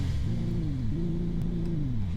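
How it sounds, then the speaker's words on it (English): A car engine in the Roblox game Greenville revs up and down in repeated rising and falling sweeps, a steady close rumble that never climbs very high, with no talking over it. "I mean, she just sounds like a normal car."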